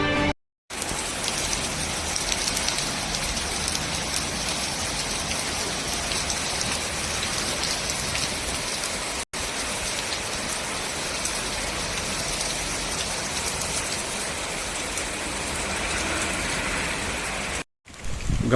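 Light rain falling in Gangakhed town, a steady broadband hiss of drops on surfaces that runs evenly throughout, broken only by a couple of brief cuts.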